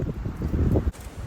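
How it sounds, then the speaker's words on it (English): Strong wind at a lakeside camp in Scotland roars and buffets the microphone in low rumbling gusts, loud and close, ending in a sharp drop. "it's very, very windy"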